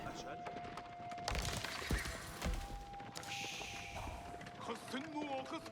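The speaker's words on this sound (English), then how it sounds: "Various cavalry units moving around." Faint hooves of cavalry units clatter in a real-time strategy battle in Age of Empires 4, a quick clip-clop running under other game noises and a speaking voice.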